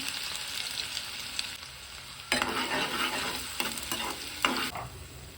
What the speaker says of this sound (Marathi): तेल चांगलं गरम झालं की मी इथं जिरं मोहरी टाकत आहे हिंग मी थोडासा टाकलाय त्यानंतर बारीक कट केलेला कांदा